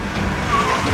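A BMW car drifts during a world record attempt, giving a loud, steady engine roar with a brief tire squeal, heard close for about a second.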